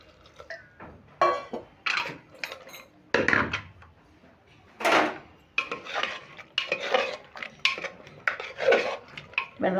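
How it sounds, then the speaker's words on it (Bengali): Chana dal with ginger being stirred in a pot, giving a steady series of spoon clinks and scrapes against the metal in uneven bursts, close and fairly loud. "আদা দিয়ে একটু নেড়ে নিলাম"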